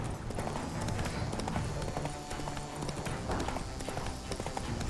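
Geralt's horse Roach galloping in The Witcher III, a steady rapid beat of hooves running continuously and fairly loud under a dense game soundscape, with no talk in the clip.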